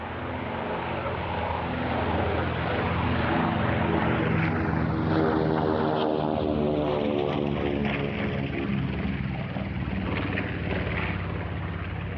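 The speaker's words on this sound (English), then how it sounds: "The B-25 Mitchell bomber was a cruise delight right down to the survival pack that included a fishing rod and bait." North American B-25 Mitchell propeller bomber flying at the Russian Air Force 100th anniversary airshow: a loud, steady piston-engine drone with a propeller beat that rises and shifts in pitch as the plane passes, continuous throughout.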